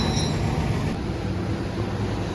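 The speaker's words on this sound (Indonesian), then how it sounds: "Di jalur 3 masuk kereta api Kertajaya teman-teman, Surabaya Pasar Turi menuju ke Pasar Senen." The Kertajaya passenger train, running from Surabaya Pasar Turi to Pasar Senen, arrives on track 3 at a station with a steady, loud rumble of wheels and carriages and a faint high squeal above it.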